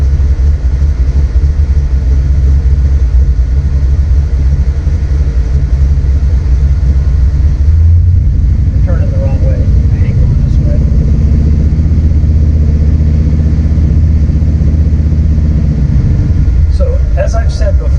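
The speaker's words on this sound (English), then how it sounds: "it's reasonably quiet in here considering that it's got a 3-inch exhaust and" Low, steady engine rumble of a 1969 Ford Fairlane with a 3-inch exhaust and 650 horsepower, heard from inside the cabin as a continuous droning hum that swells briefly and then settles.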